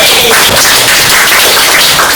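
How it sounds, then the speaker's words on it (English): A packed open-mic night crowd at the Whitehouse Bar in Limerick applauds, dense and steady, filling the room with continuous loud clapping from start to finish. "Give yourselves a round of applause."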